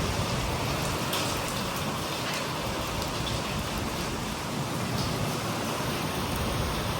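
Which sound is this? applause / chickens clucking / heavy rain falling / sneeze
heavy rain falling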